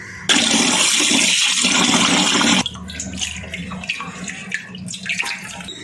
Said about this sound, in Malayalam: ഇതിൽ മണ്ണെടുത്താലും മണ്ണാണ്, അതുകൊണ്ടാണ് നമ്മളിത് കഴുകിയെടുക്കുന്നത്.